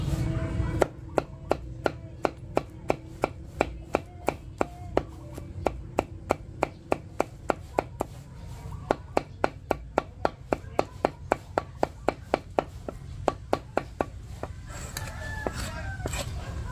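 Yard waste for organic liquid fertilizer being chopped with a blade, a long run of sharp, evenly spaced strikes landing about three per second, close and crisp over faint background sound with roosters crowing in the distance.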